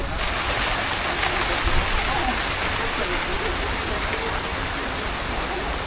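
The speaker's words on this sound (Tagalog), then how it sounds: "Lumalakas na naman ulan." A heavy, steady downpour on a construction site during framing work in Antipolo, Philippines, hisses continuously at full strength for the whole stretch, loud and close, with no pauses.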